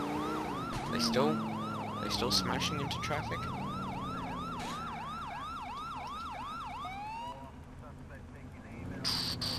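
A video-game police car siren wails, rising and falling in steady cycles close by, with engine noise beneath and a voice speaking briefly over it.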